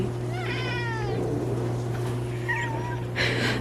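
A house cat meows twice indoors, a drawn-out harmonic cry and then a shorter one, close and clear over a steady electrical hum, with a brief higher rustle at the end.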